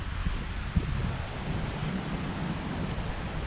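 Steady broadband wind rushes across open water around a kayak during a first fishing outing, a constant rough roar with a slight buffeting thump near the start and no talking.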